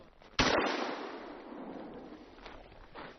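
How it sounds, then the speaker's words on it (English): A single sharp gunshot rings out while shooting clays on horseback in Harbin, a close, loud crack followed by a long fading echo, with faint outdoor noise afterward. "I decided to shoot some clays."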